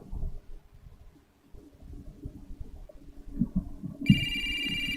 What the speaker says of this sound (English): The sound of a phone ringing comes out of nowhere.